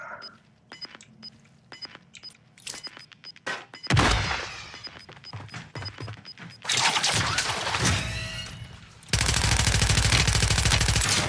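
Submachine gun fire in a video game, loud bursts and rapid clatter with sharp impacts, growing into long sustained volleys toward the end.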